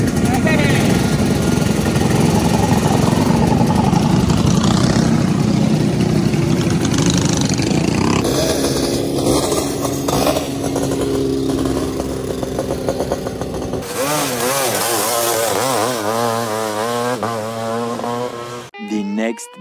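A motocross bike engine runs at a Class X MX race at Skyline in Kuna, Idaho, a loud steady idle that changes tone partway through, with voices over it.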